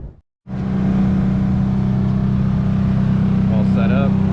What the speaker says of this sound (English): Let the car warm up.